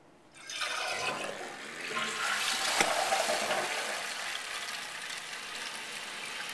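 An older Toto Drake toilet flushes in one steady rushing surge of water that stays strong and even, then begins to ease off as the tank drains.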